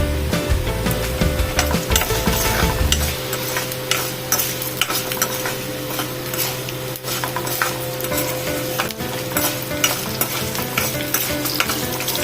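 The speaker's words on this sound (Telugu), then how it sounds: "ఎండుమిరపకాయలు వేసుకుందాం. కొంచెం పచ్చిమిరపకాయలు" Dry red chillies and green chillies frying in a pan for a ridge gourd chutney, a loud continuous close sizzle with stirring scrapes, and a low hum in the first few seconds, no talk.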